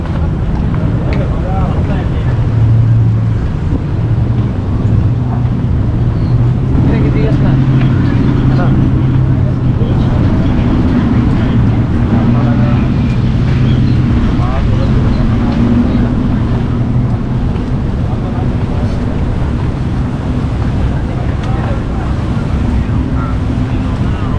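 A four-engine motorboat speeds across the sea near Hulhumalé and Malé in the Maldives, giving a steady loud engine drone with wind buffeting and water rush that continues unbroken for the whole stretch.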